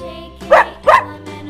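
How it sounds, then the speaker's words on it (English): A cartoon dog in a preschool alphabet lesson gives two loud, close barks about a third of a second apart over a soft musical backing. "D for dog, D for dog."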